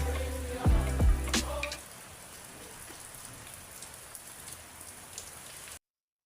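Steady light rain patters on a surface outdoors where clothes are hung to dry, with a couple of brief louder knocks near the start before the patter settles into a soft hiss.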